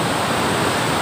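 Rushing river water at Chuka beach roars in a loud, unbroken broadband wash, close and constant for the whole second with no voices.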